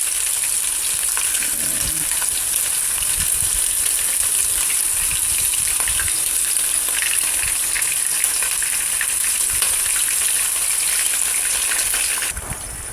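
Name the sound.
chicken strips stir-frying in a pan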